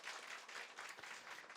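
Church congregation at a Christmas service clapping together in a steady, even patter of applause, fairly faint and distant.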